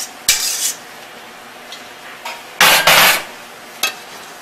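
A utensil clinks and knocks against a bowl while stiff egg whites are folded into beignet dough for apple beignets, with a few sharp scraping clatters separated by quiet pauses.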